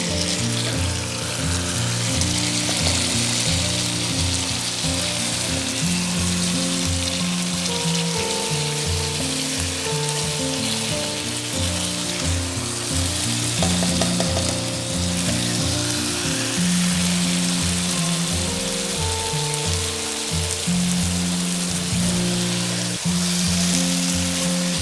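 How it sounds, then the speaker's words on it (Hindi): Mixed vegetables fry in oil, giving a continuous, even sizzle and bubbling that lasts about twenty-five seconds at steady moderate loudness, with occasional soft scraping from stirring and no voices. "अब हम इसको अच्छी तरीके से फ्राई करते हैं।"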